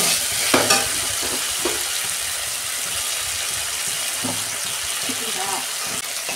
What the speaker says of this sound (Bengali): মশলা থেকে কিছুগুলো তেল ছেড়ে গেছে, মশলাটা আমার কষানো হয়ে গেছে।